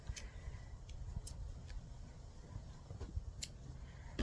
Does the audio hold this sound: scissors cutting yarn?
yes